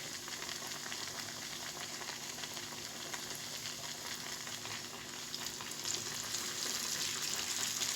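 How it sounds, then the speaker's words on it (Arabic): Chicken pieces fry in hot oil with a dense, continuous crackling sizzle that holds steady and grows slightly louder near the end, close and without speech. "هحمر طبقة كمان من الفراخ"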